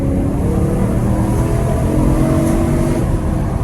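Engine of a BMW E92 M3 Competition Pack revving toward 6,000 rpm on wet roads, a loud steady drone heard from inside the car without pause or talk.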